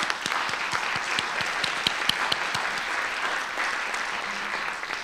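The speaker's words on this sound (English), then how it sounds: "So let's give them a round of applause as well." A crowd at the Encyclopedia of Indianapolis launch event gives a round of applause, steady dense clapping with some sharper individual claps standing out, moderately loud and continuing throughout without talk.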